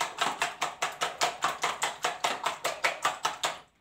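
Eggs for a vanilla cake being beaten by hand until foamy, a quick steady run of about sixteen whisk strokes against a bowl, close and clear, with no talking.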